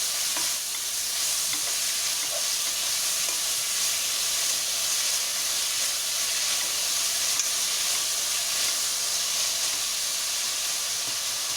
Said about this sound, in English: So I let it cook, the onions, let it cook for a few minutes till it browns.